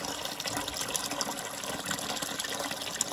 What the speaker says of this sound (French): Alors, pour vider plus rapidement, j'ai débranché aussi le départ eau chaude.